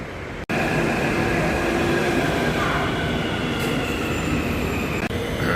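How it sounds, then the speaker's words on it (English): Loud, continuous rumble of a metro train in motion in Hyderabad, steady wheel noise and faint squeals throughout, heard from inside the carriage. "I'll hop on the train and see you back."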